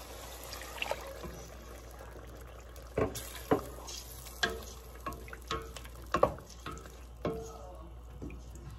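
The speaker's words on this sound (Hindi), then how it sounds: "1/2 कप पानी डाल रही हूँ।" Half a cup of water goes into sizzling masala for Delhi-style spinach, beef and potato curry, heard as frying crackle with a series of sharp spattering pops and stirring clinks, fairly close.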